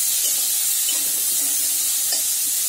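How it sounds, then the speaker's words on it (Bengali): Bitter gourd fries in hot oil after tempering, a steady, close sizzle and hiss with faint stirring scrapes throughout and no talking. "দিয়ে এবার করলাগুলো ভাজতে থাকবে"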